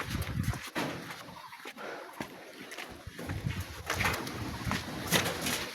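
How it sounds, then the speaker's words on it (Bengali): Pigeons coo in low, soft, repeated calls close by, with wing flutters and shuffling in a coop and some quiet voices in the background. "এই তো কবুতরগুলো দৌড়াদৌড়ি করে"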